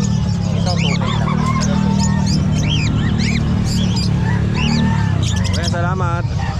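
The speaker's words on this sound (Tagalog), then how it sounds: "Pinakamarami ngayon dito mga manok" Chickens at a crowded pet market in the Philippines, with many overlapping clucks and chirping calls over a dense murmur of people talking and a low crowd rumble.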